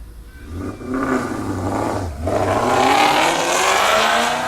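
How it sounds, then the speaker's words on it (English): A powerful race car at the 2019 Sandhills Open Road Challenge accelerates down an open road, engine note rising loud and close through a gear change, then roaring on steadily with no voices. "Powerful car there."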